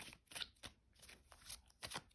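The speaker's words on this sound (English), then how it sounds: "All right, a few more good shuffles." Soft, papery hand-over-hand shuffling of tarot cards in irregular bursts, close up, with light slaps and rustles repeating every half second or so.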